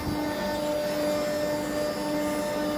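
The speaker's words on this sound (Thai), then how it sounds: "ใช้เครื่องดูดฝุ่นด้วยปะมันเสียงดังไหม" A dust-extraction vacuum cleaner runs beside a brand-new CNC router used for making speaker cabinets, a loud, steady whining drone that holds unchanged throughout.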